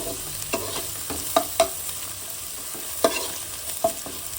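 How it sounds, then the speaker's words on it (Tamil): Ginger garlic paste sautéing in a pan for vegetable biryani, a steady sizzle broken by several sharp spatula scrapes and taps against the pan, close and alone with no talking. "இஞ்சி பூண்டு பேஸ்ட் பச்சை வாசம் போகிற வரைக்கும் நல்லா வதக்கிடுவோம்."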